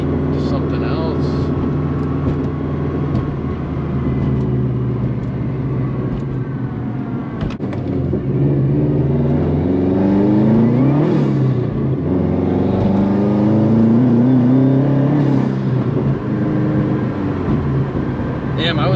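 A Subaru WRX engine revs and drones loudly from inside the car during street drifting, pitch climbing and falling through several pulls over about twenty seconds.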